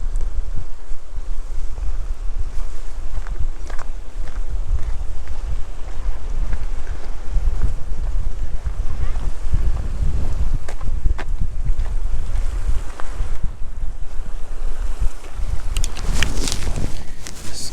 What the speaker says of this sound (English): getting pretty windy here